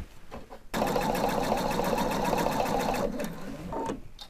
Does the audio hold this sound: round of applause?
no